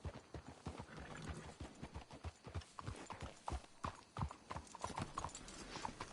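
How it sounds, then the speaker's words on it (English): Steady clip-clop of horse hooves trotting close by in Red Dead Redemption 2, a continuous rhythmic patter with no voices. "Let's hitch the horses up ahead."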